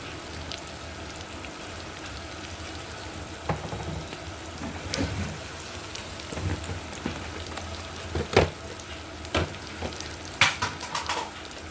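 Chicken fry sizzles in a pan with garlic chili powder, a close, crackling hiss broken by irregular scrapes and clatters of stirring that grow louder toward the end.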